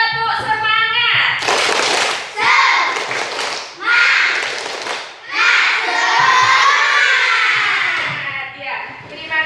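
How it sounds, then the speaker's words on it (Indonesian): A class of young Indonesian pupils repeats the rhythmic 'tepuk semangat' spirit clap on their teacher's request. Short bursts of crisp group clapping mix with excited children's shouting and chanting in a bright, echoing classroom. "Sekali lagi, tepuk semangat."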